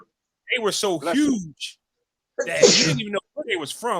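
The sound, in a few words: sneeze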